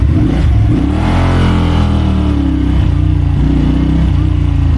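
A VOGE sports cruiser motorcycle engine revs up loudly and close by, its pitch sweeping upward and dipping through a few throttle blips in a steady engine drone.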